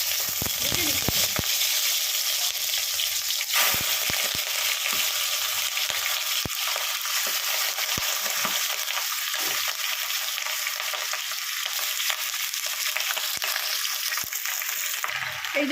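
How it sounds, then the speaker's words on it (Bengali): Big chunks of meat fry in hot oil in a pan for Philippine adobo, giving a loud, constant sizzle with scattered pops and a few sharp clatters near the start. "আগে ভালো করে এটাকে ভেজে নিতে হবে।"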